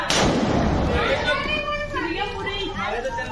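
Firecrackers burst inside a burning Ravan effigy with one loud, sharp bang at the start, followed by a rumbling tail as people talk and chatter nearby.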